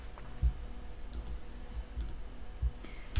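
Computer mouse clicks sound as a few sharp, isolated taps spaced irregularly across a quiet room background, close and crisp.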